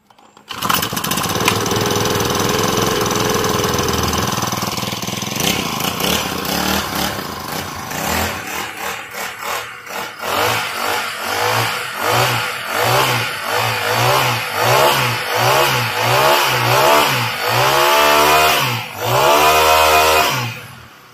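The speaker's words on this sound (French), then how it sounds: "nous avons là un moteur de débroussailleuse 4 temps que je vais faire tourner quelques instants devant vous." A four-stroke brushcutter engine runs loud and close, first at a steady high whine, then settling into a rhythmic pulsing idle with repeated revs toward the end, alone with no talk.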